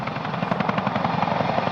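A CH-47 Chinook heavy-lift twin-rotor helicopter thumps loud and close with steady rapid blade chop over a broad engine roar, with no talking.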